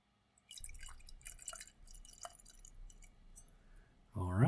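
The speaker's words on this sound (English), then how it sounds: "And give it a pour." Nanbu Bijin Tokubetsu Junmai sake is poured into a glass, giving soft close trickles and drips for several seconds, followed by a voice that starts speaking at the end.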